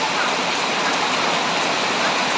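Steady, dense hiss of typhoon rain falling without a break, even and fairly loud throughout, with no voices.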